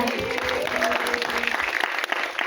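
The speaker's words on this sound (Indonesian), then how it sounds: "Tepuk tangan buat Bu Hadra" Clapping from the audience at a film press conference in Indonesia honours a female director, brisk and continuous, with some voices faintly audible beneath.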